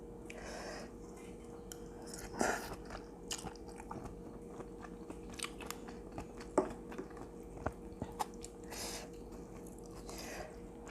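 Close, crisp crunching and biting from someone eating Thai spicy seafood salad with squid, shallots and rice noodles (tam sua talay), with scattered sharp bites over a steady low hum and no talk.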